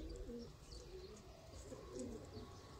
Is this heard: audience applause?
no